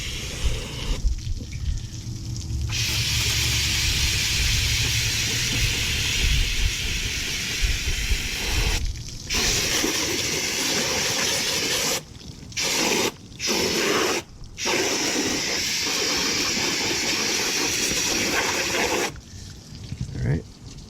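Loud, continuous spray hissing close up while cleaning a car's AC system, broken by several short pauses where the spraying stops and restarts.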